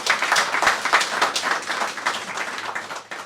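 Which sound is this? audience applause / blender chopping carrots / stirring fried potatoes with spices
audience applause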